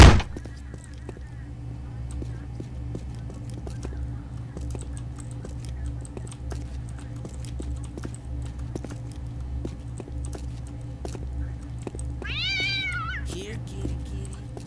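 A cat meows in the video game Postal 2 amid steady game background noise and ticking, the meow rising late and fairly clear.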